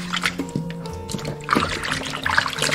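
Beef ribs are rinsed under running water, a close trickling and splashing with uneven bursts as the meat is turned by hand.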